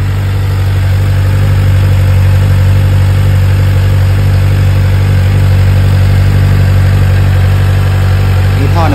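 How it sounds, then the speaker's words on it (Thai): A new Kawasaki ZX-4R four-cylinder motorcycle idles close up with a loud, smooth, steady hum that holds unchanged throughout. "โอเคฟังเสียงกันดีกว่า เสียงหวานเจี๊ยบสไตล์สี่สูบนะ"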